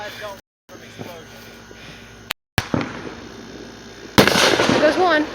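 Fourth of July fireworks go off outdoors: a whistling rocket, then a few sharp pops and a louder crackling burst near the end, with voices talking in the background.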